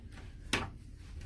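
Closet double doors in a Norwegian Dawn oceanview cruise stateroom give a single short wooden clack as they open, close and clear against quiet room tone.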